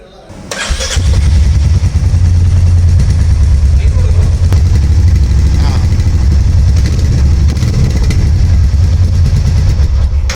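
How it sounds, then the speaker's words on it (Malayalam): A Royal Enfield Meteor 350 motorcycle engine starts and settles into a loud, steady, deep thumping idle that runs continuously, close by. "നമുക്ക് എൻജിൻ നല്ല റിഫൈൻഡ് ആയതുകൊണ്ട് നമുക്ക് ആ തമ്പിങ് സൗണ്ട് നന്നായിട്ട് ഫീൽ ചെയ്യുന്നുണ്ട്"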